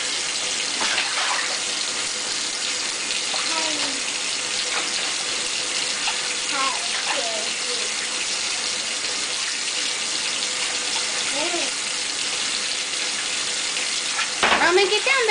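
Little boy splashing water in a bathtub at home, steady running and sloshing water throughout with occasional sharper splashes, and adults talking over it.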